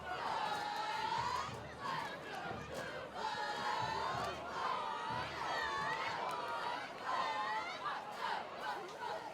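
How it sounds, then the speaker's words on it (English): A high school football crowd in the stands keeps up a loud, continuous din of shouting, cheering and chatter, rising in repeated waves of yelling. "we have a good crowd here"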